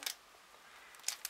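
Scissors snip through paper while making a card, giving a few short, faint, close crisp cuts at the start and end with quiet pauses between.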